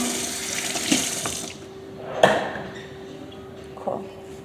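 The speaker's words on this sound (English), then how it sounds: "I'm gonna rinse this cup because I'm cooking today for the mall." A cup rinsed under a running kitchen tap, with close water splashing and a few louder clinks and surges as the cup moves through the stream over several seconds.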